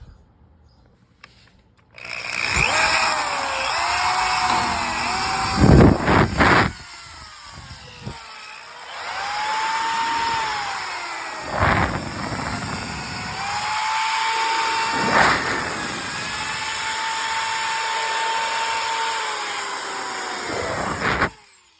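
A power drill polishing a Ford F-250 headlight whines loudly in long sustained runs, pitch rising and falling as it works, with brief pauses between bursts.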